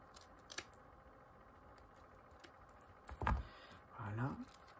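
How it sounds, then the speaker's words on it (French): Scissors snip loose frayed threads on a homemade recycled-material broom, a few faint close clicks and snips against a quiet room, followed by a soft rustle. "Donc, je coupe tout ce qui dépasse."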